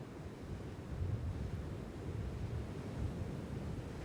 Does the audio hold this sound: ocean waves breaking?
yes